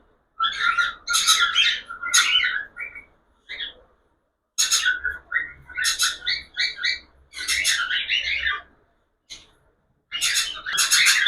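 Pet budgerigars and cockatiels chirp and squawk close by in busy, overlapping bursts separated by short pauses, with no voices.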